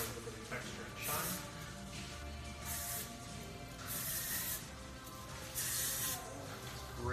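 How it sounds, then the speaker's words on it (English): A Glint texture spray is misted onto a freshly cut hairstyle in several short hissing bursts, steady and close, with hair-salon background sound between the sprays. "Glint is a really awesome texture spray."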